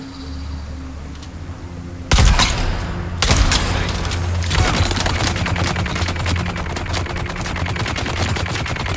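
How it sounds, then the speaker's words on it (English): Heavy machine gun in the video game Dune Awakening fires in sustained rapid bursts after a quieter ambient stretch, loud and close, with dense overlapping shots continuing to the end. "It's the heavy machine gun."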